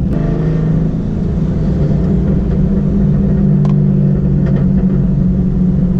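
A Chevrolet Camaro's engine rumbles steadily from inside the car while driving, a deep, constant drone with road noise and no voices over it.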